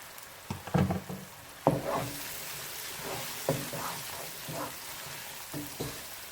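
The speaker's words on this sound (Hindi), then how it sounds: "और अभी इसको भून लेंगे।" Vegetables for aloo palak frying in a pan, a steady close sizzle with several stirring scrapes and clatters spaced through it, no talking.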